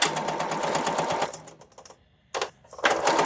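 A sewing machine stitches a wire into a face mask liner in a fast, steady whir that stops briefly, then a short burst and a resumed run follow. The mechanism is close and clear, with no voices.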